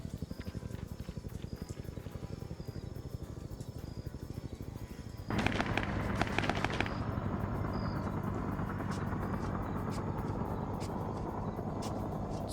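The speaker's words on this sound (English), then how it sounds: "Helicopters now trying to fly in formation." Helicopters in a Vietnam War multiplayer video game fly in formation, their steady rapid rotor chop continuous and droning, swelling louder midway with a burst of closer crackling noise.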